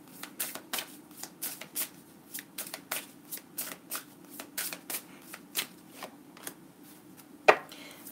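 A deck of cards being riffle-shuffled again and again, soft rhythmic flutters and slaps, close up in a quiet room, ending with a sharper snap.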